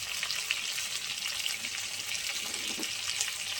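Ridge gourd, potato and drumstick pieces fry lightly in a pan with a continuous close crackling sizzle, steady and moderately loud with small pops throughout, no voices.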